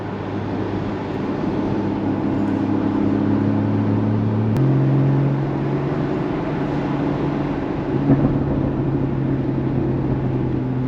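A 2016 Porsche Boxster Spyder idles with a steady, deep exhaust burble, its low drone shifting pitch slightly partway through and carrying on loud and continuous with no talk.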